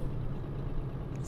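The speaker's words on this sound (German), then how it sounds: "der Retarder wirkt gerade" A heavy truck's retarder braking in Euro Truck Simulator, heard as a steady, low engine drone that holds at an even level through the short moment.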